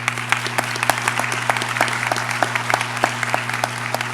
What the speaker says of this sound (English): So I'd like to give you guys a round of applause